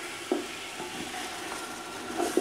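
Beef pulao with lemon juice being stirred and fried in a pot, a steady sizzle with a few soft spoon scrapes and knocks at irregular intervals, close and moderately loud.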